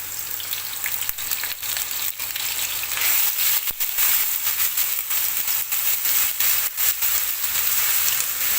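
Onions browning in a pan for Saudi kabsa give off a loud, continuous close-up sizzle with small crackles and the occasional scrape of stirring.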